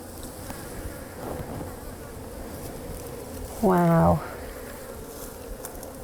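A close, loud buzz of honey bees swells briefly over a low hum of many bees, and a voice makes a short exclamation.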